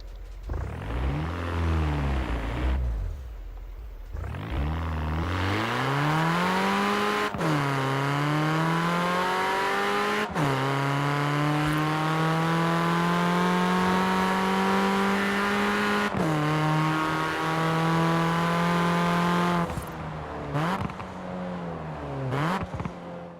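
A hot hatch engine in Forza Horizon 4 revs and climbs through the gears. Its generic-sounding drone rises in pitch, drops sharply at each shift and then climbs again, loud and continuous with no talk.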